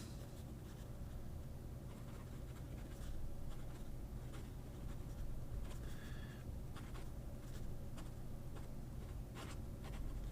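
A pen nib scratches across Graphilo paper, a faint, close scratching made of short irregular strokes over a low background hum.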